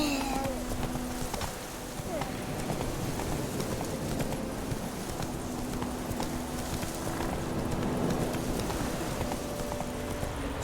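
Roach, the horse in The Witcher 3 video game, gallops with a steady, rapid clip-clop of hoofbeats that carries through the whole stretch over a constant game-world background.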